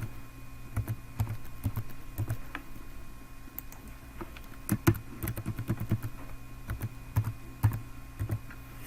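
Someone types a password on a computer keyboard, with close, irregular clusters of key clicks and a few heavier taps in a quiet room.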